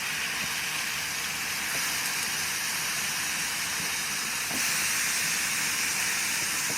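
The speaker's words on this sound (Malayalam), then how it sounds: "ഇനി നമുക്ക് നമ്മുടെ ചിക്കൻ കുറച്ചും ഇട്ടെടുക്കാവേ" Chicken pieces go into a hot pan for chicken curry, producing a steady close hiss of sizzling oil and steam that swells slightly toward the end, with no speech.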